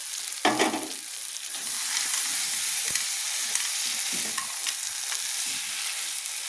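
Green peas are dropped into a pan of cauliflower and spices frying in oil. A short, rough burst marks the drop, then a continuous loud sizzle follows with scraping stir sounds beneath it and no voices.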